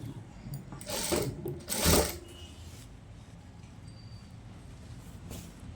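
A sewing machine stitches palazzo pants for a 7-year-old girl in two short, close, fairly loud bursts of whirring stitching, followed by quiet room tone.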